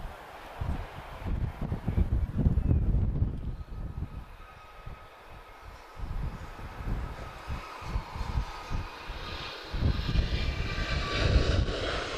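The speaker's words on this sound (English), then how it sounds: "our next departure is going to be 767" A Boeing 767 jet departs Lisbon Airport, its engines a loud, deep rumbling roar that swells and fades with gusts of wind buffeting the microphone.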